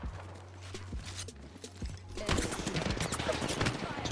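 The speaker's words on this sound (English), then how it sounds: "Some shots taken at them." Gunfire in the battle royale game Apex Legends during a ranked fight over high ground, rapid bursts of shots growing louder and denser after a quieter opening, steady crackling volleys at mid distance.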